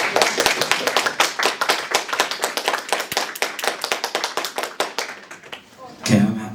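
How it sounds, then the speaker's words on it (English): A small audience applauds, a cluster of rapid hand claps that gradually thins out, then a voice begins speaking. "Can we clap it up for that?"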